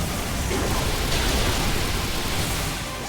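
Steady, dense rain-storm hiss from Pokemon Scarlet/Violet fills the clip, a loud continuous wash of falling rain with a faint deeper rumble underneath.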